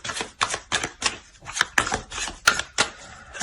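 Tarot cards laid out one after another during a card reading: a quick run of about ten crisp, close slaps and snaps at a steady, brisk rhythm, with no voice.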